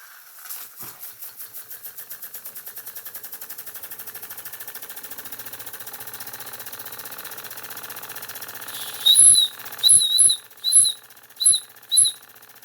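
Empco strapped-boiler model steam engine starting up, a fast steady chuffing that runs on for several seconds, then a few loud sharp whistle-like hisses in short bursts near the end.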